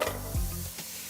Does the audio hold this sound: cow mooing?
no